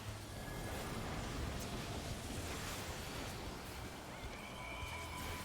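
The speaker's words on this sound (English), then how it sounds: "the water pushes us away" Water waves in Final Fantasy XIV's Pandaemonium raid area: a faint, steady rushing wash of surf that continues evenly throughout, with no talking.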